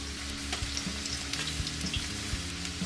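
Chicken pieces fry in a pan for orange chicken, giving a steady close sizzle with small crackles and pops throughout and no voices.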